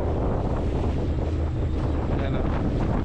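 Strong wind rushes steadily and loud against the microphone near the water in front of Sohoton Cave, a continuous low roar with no break across the few seconds.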